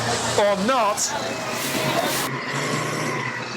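Demolition derby stock cars rattling and roaring past in a steady, loud rush of engine and body noise, heard beneath an announcer talking over it.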